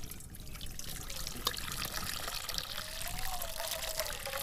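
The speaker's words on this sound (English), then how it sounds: "a little bit of soapy water for dishes here" Soapy water pours into a dish tub at a mountain campsite for washing dishes, a steady trickling and splashing stream with a small clink partway through, close and continuous.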